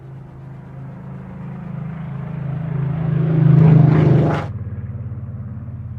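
A P-51 Mustang propeller fighter flies past, its piston engine drone swelling louder as it approaches, peaking overhead, then dropping abruptly in pitch and fading into a throbbing rumble as it moves away.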